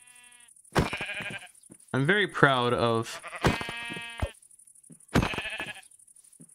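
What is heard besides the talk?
sheep bleating in the video game Minecraft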